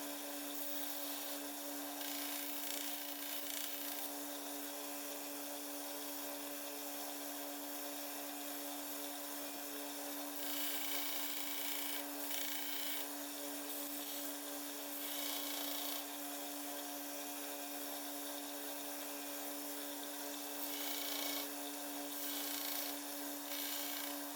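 Belt sander with a 180 grit belt grinding bone handle scales for a Schrade Walden Mariner's knife, a steady broadband abrasive rasp with a constant motor hum, running continuously up close with slight swells as the piece is pressed and shifted.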